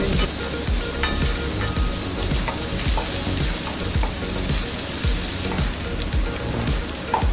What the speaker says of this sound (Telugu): ఒక చిన్న క్యాప్సికమ్ రెండు పచ్చిమిర్చి కట్ చేసుకుని వేసుకోవాలండి ఒక రెండు నిమిషాలు వేయించుకోవాలి